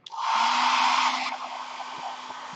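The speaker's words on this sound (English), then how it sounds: "And hair dryer again." A hair dryer blows steadily at close range, loud at first and then easing to a lower setting before running on with a constant whir.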